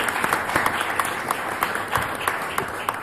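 Conference audience applauding at an engineering event in Italy, a steady wash of many hands clapping with scattered sharper claps throughout, moderately loud and without speech.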